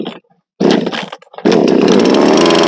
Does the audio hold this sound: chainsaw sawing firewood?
yes